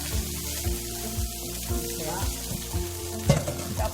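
Crabmeat fried rice is stir-fried in a pan, a strong close sizzle over a low hum with rhythmic scraping strokes and one louder clatter near the end; no speech.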